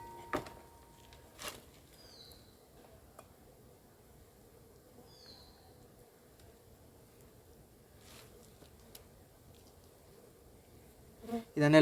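Honey bees buzz faintly as a colony is shifted into a new box, a thin steady hum with a few soft knocks and taps, plus a louder handling clatter near the end.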